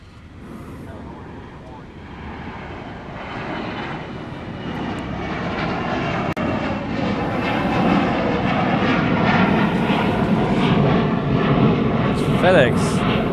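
A FedEx Boeing 777 rolls past at Honolulu airport, its jet engines swelling into a broad, loud roar that grows steadily over several seconds, with a voice talking faintly in the background.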